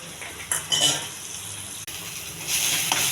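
Onion and cumin seeds frying in a little oil in a pan on a stovetop, a close steady sizzle with a couple of brief louder bursts as the pieces land and get stirred, with no talking.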